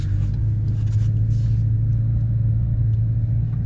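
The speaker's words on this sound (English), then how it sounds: "It's kind of buzzy, like you expect from a 4-cylinder." A 2025 Ford Maverick XLT with its 4-cylinder engine accelerates, giving a steady, loud low-frequency rumble with a droning tone held throughout, heard from inside the cab with no talking.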